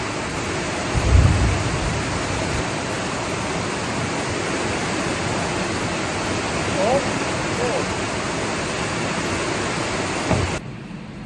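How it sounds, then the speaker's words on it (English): Heavy rain pours down on a farm, a dense, loud and steady roar that fills the whole scene, with a low thump near the start and a faint voice briefly audible. "Now we're getting pounded"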